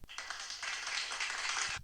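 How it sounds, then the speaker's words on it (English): Applause from a large audience at an academy ceremony, a dense steady wash of many hands clapping together for nearly two seconds before cutting off abruptly, with no speech. "That's everybody at the academy fucking clapping for Aldous"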